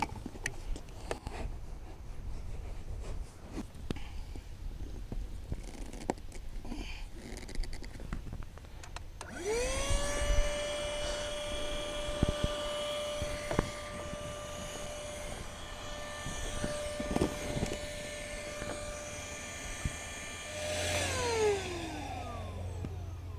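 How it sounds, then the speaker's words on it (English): An electric air pump set to deflate runs on an inflatable catamaran, starting with a sudden whine that holds a steady droning tone for about ten seconds before winding down, close and alone after quieter handling noise. "Make sure your hose is on the deflate setting."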